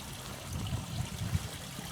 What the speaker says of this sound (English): What a delightful woodland river it crosses.